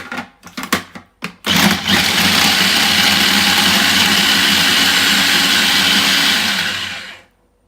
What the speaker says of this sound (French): Après je mixe l'oignon.